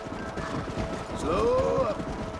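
Hooves of a Kentucky Saddler horse in the Red Dead Redemption video game thud in a quick running rhythm under outdoor game ambience, with a brief whinny and a voice on top.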